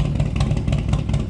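A close, loud V-twin rumble with a quick, uneven lumpy pulse comes from a 2007 Harley-Davidson Screaming Eagle CVO Dyna FXDSE, 110 cubic inch, with custom ignition, Bassani 2-into-1 exhaust and no heat shields.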